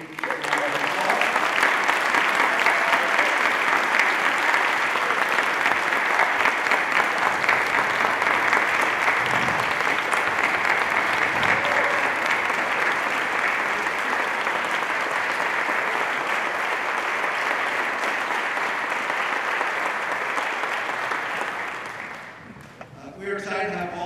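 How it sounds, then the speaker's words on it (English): A large audience at a Democratic candidates forum for New Hampshire's 1st Congressional District applauds for Carol, a dense, sustained wash of clapping for over twenty seconds that fades near the end. "let's give Carol a big round of applause"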